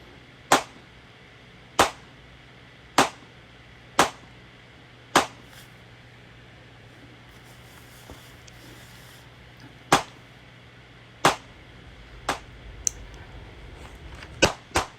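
Handgun shots ring out at an outdoor shooting range in hot weather. About a dozen loud, sharp cracks come at irregular intervals, with a pause that sounds like a reload before a quicker cluster at the end.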